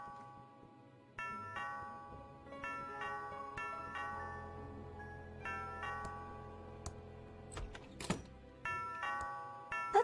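A doorbell rings repeatedly in the video game Thimbleweed Park. Its bright tonal chimes sound in quick succession over a low hum, with a brief sharp clatter near the end and no voices.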